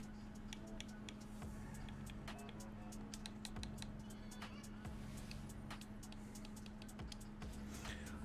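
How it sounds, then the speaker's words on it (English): Game controller buttons click in quick, irregular taps, faint and close, over a steady low electronic hum with an occasional murmur of talk. "I can hear the controller clicking."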